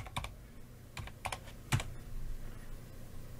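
Keys tapped on a computer keyboard while typing an AI image prompt, a few quick clusters of sharp clicks with short pauses between them, close and quiet, with no talking.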